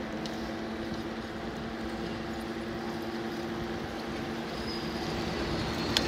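A train rolls along a street railway, a steady low rumble with a droning hum that holds at an even level throughout, slightly swelling near the end.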